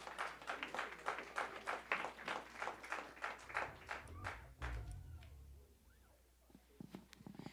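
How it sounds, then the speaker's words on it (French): A church congregation at a praise and testimony night claps for a member in a steady rhythmic beat, faint and fairly distant, before the clapping trails off into quiet room sound. "on applaudit sœur Nana"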